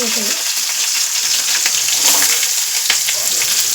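Onions with curry leaves and chillies fry loudly in hot oil, giving a dense, constant close-up crackle and hiss throughout, broken by a few brief stirring clicks.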